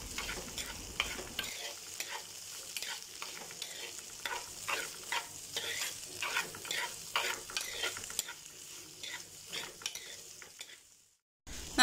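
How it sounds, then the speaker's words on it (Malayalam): Onions sautéing in a pan for fish mappas, a steady close sizzle broken by repeated scraping strokes of a spoon stirring them, continuing alone without talk until a sudden cutoff near the end. "സബോള നമുക്ക് നന്നായിട്ട് ഒന്ന് വഴറ്റി എടുക്കാം"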